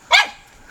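A single short dog bark rings out once, fairly close and clear, with no talk over it.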